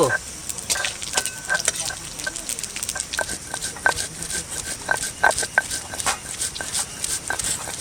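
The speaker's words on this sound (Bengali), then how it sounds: "ওটা জিরে শুকনো লঙ্কা ফোড়নে দেবো। গোটা জিরে দিচ্ছি" Whole cumin seeds and dry red chilies sizzle in hot oil for a Bengali-style desi chicken curry, giving a steady dense crackle with frequent sharp pops and spits throughout.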